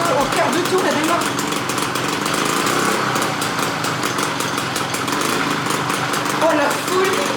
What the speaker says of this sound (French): Du premier tour au quart de tour elle démarre.